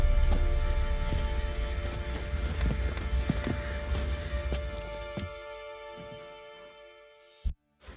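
Horse hooves clip-clop steadily in Witcher 3, a continuous close rhythm over a loud game ambience and music bed that cuts out near the end.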